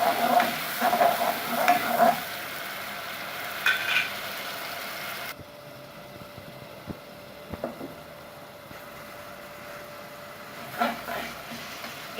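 Onions frying in a pan with garlic paste, ginger paste and coriander paste for a chicken liver and gizzard curry, sizzling and being stirred close by, with scraping bursts fading to a quieter sizzle.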